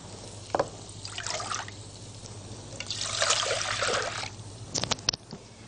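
Milk is poured into a pot for an economical chocolate sauce, a steady close trickle and splash building in the middle, with a few small clinks of a cup or container near the end and no talking.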